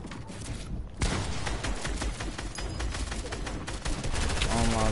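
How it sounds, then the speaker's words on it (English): Dense gunfire from a shooter video game played on a controller in Creative mode, rapid overlapping shots running nearly the whole time under steady background game noise. "let me make sure I can shoot now"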